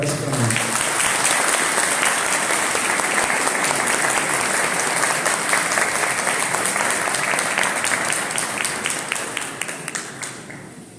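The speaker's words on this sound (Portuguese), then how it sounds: "Uma salva de palmas" A crowd at a lecture during the X Expofeira Colonial in São Francisco welcomes speaker Paulo César Tinga with loud, sustained applause that rolls on for about ten seconds, then thins into a few scattered final claps.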